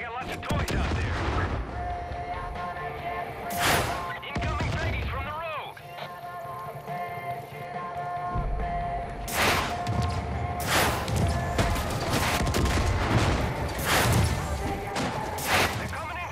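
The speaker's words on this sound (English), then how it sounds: "I'm seeing mortars and MGs outside" Mortar blasts and machine gun fire in the video game Far Cry 5, with heavy booming explosions and rapid bursts of gunfire repeating throughout, loud and close, while a voice talks over parts of the action.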